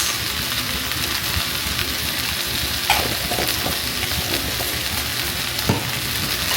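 Squash pieces sauté in butter in a hot pan with a steady, close sizzle and a few clinks of stirring, no voices over the cooking.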